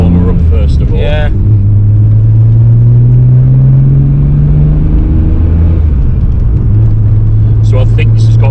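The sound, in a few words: Nissan Skyline GTR R32 engine warming up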